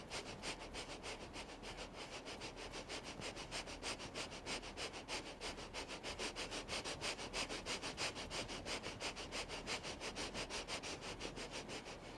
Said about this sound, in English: take an inhale and then begin breath of fire